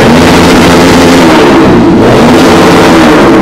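A motorbike engine revving during race practice on a dusty track, loud and close, a continuous roaring drone that swells slightly mid-way and carries on without talk.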